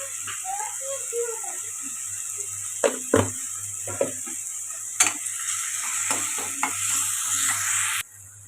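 Tomatoes sizzle steadily in a hot pan for egg curry, with a spatula scraping and clacking against the metal in several sharp strokes before the frying noise cuts off at the end.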